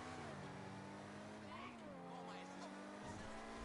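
Car engine in GTA 5 hums steadily under music and chatter at a car meet, its tone shifting as it revs slightly, loud and continuous throughout.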